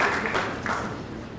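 Applause from a lecture audience welcoming someone to the front, a brief wash of clapping that fades slightly over a second and a half.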